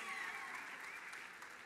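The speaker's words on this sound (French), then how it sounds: "vous pouvez l'applaudir, elle est magnifique" Audience applause at a 2017 gala, as a host welcomes an elegantly dressed assistant on stage; steady, dense clapping from a crowd fills the short moment evenly.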